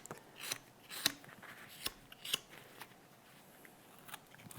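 A carving knife shaves wood on a Santa Christmas ornament, smoothing away bandsaw marks with quick, quiet, crisp scraping strokes in irregular bursts, close and faint.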